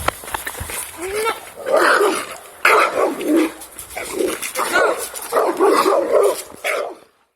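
A Bernese mountain dog barks and yips reactively at another dog on a walk, in repeated loud bursts mixed with people talking nearby.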